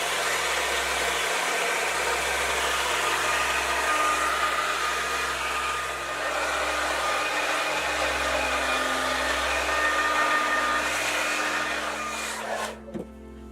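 A hair dryer blows steadily and loudly while drying thick, damp hair, a constant close whoosh that falters briefly near the end with a small knock.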